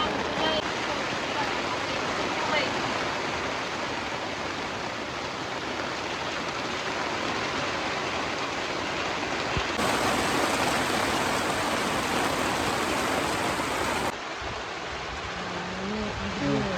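Heavy rain falling on a forest campsite, a loud, unbroken dense roar of downpour that continues steadily throughout.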